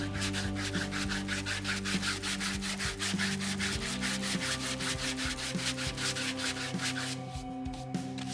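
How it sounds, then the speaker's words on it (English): Rapid, rhythmic rubbing strokes of a sanding block with sandpaper rounding over the contour of a wooden Telecaster-style guitar body repeat steadily and loudly, over a constant machine hum in the background. "I'm using the same sanding block and the same grit sandpaper just to round over this contour"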